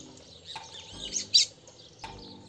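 A caged red-cowled cardinal (galo-de-campina) sings back in short, sharp chirped phrases, a few bright notes spaced across the moment, fairly close and clear over quiet outdoor background.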